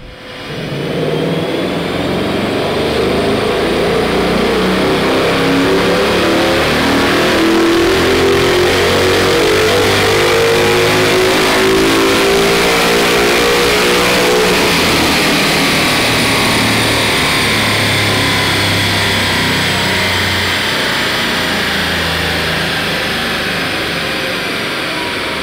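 A 2011 Ford Mustang GT with a 2018 intake manifold and Lund Racing tune roars on a chassis dyno, the engine climbing steadily through a long loud full-throttle pull before easing off, with no talk.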